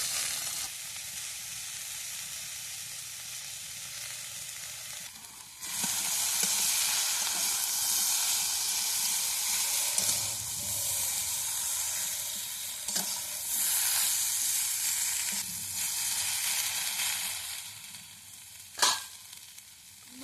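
Ground mustard greens and taro paste fry in a hot pan: a quiet hiss swells into loud, steady sizzling that lasts throughout, with occasional stirring clatter and brief sharp crackles near the end.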